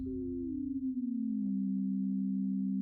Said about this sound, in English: you can hear the regular tone and what the new tone sounds like